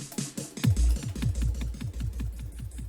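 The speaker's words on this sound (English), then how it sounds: "You can hear it's kind of a wild delay right now," Wild, warped delay from the Valhalla Supermassive plugin, with a deep throbbing low pulse and rapidly repeating echoes that smear into a churning, pulsing texture for a few seconds.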